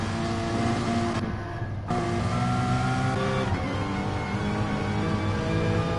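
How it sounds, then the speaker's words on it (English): Porsche Cayman GT4 Clubsport race car engine in a racing video game, a steady loud onboard drone with harmonic engine tones, brief gear-change dips and continuous revving throughout. "Currently, we are on board Feyenoord in his Porsche Cayman GT4."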